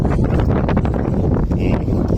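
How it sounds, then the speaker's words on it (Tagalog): Wind buffets a nearby microphone, producing a loud, rough, continuous low roar with gusty fluctuations. "Medyo malakas ang hangin."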